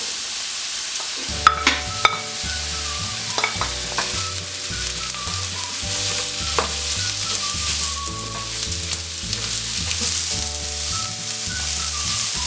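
Carrots, 250 grams, stir-fried in a pan for chicken noodles: a steady close sizzle with repeated scraping and clinking of a spatula as they are tossed, no talking.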